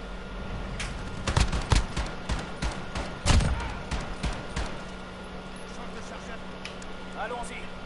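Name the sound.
gunshots in Call of Duty Modern Warfare video game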